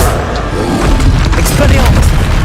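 Spell blasts in the Hogwarts Legacy video game, heavy booming impacts that rumble loudly and continuously, with a voice speaking over the noise.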